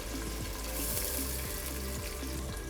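Tomatoes and tomato paste frying in a pan for a Tunisian seafood couscous, giving a steady, dense sizzle with a few soft stirring scrapes. It stays loud and even throughout, with no talking.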